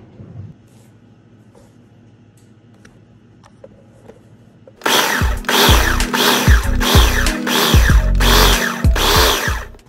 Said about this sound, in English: so that you can see what's happening in the food processor